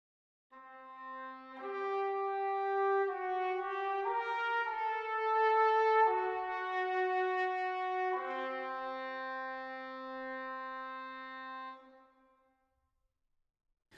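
Trumpet and cor anglais sound together at the same concert pitch, holding a slow series of sustained notes that step up and down, warm and clear, before the final note fades to silence.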